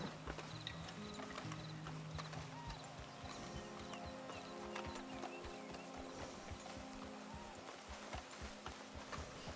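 Steady clip-clop of horse hooves at a trot in Red Dead Redemption 2 Online, with a brief whinny, over game music and background sounds.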